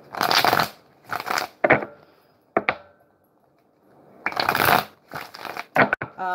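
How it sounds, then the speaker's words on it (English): Playing cards being riffle-shuffled up close, several quick crackling bursts separated by short pauses. "Give these cards a couple of shuffles."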